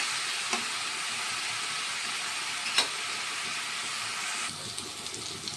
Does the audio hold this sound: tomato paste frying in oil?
yes